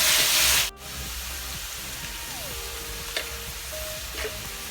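Chicken pieces frying in a pan until brown give a steady, close sizzle, preceded by a brief loud burst of hissing at the start and joined by faint tonal beeps partway through.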